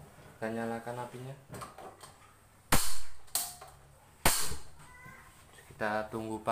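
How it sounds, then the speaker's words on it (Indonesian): Gas stove igniter lit for frying battered tempe mendoan, giving two loud, sharp clicking bursts about a second and a half apart, with a person talking before and after. "Kita goreng aja, kita nyalakan apinya"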